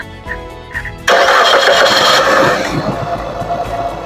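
Fuel-injected car engine with a suspected faulty ignition coil cranks briefly, then catches with a sudden loud roar and settles into an unsteady, shaky idle.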